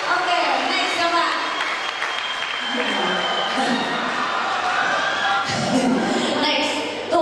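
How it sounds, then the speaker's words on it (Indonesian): An audience at an event claps together, giving a sustained, dense patter of applause with voices mixed in throughout. "tepuk tangan buat anda sekalian ya"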